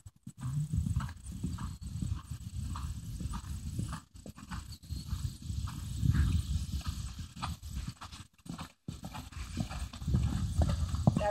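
A horse named Spartacus being ridden at a ranch, hooves clip-clopping in a steady rhythmic gait, close and fairly loud, with a dog barking at times and occasional brief gaps.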